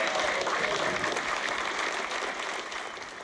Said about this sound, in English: the new foreign minister joined in the applause